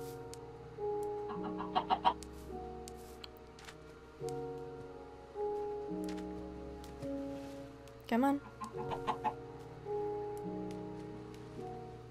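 Chickens in a survival video game, short repeated clucks and calls spaced every couple of seconds against a quiet ambient background, with a brief voice speaking in the middle.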